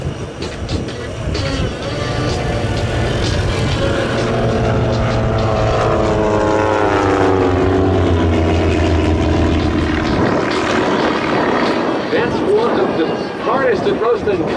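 Aerobatic propeller planes of Team Redline flying a mirror pass at an airshow, loud droning engines swelling and sweeping past with a rising then falling pitch, under a commentator's continuous talk.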